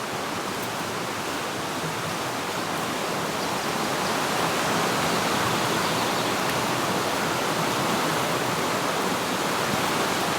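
A low river flows in winter, a steady broadband rush of water running without a break, close and fairly loud, with no voices.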